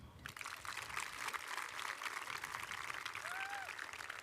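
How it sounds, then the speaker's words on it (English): A graduation audience gives a round of applause, a soft, distant wash of many hands clapping throughout, fairly faint. "Round of applause."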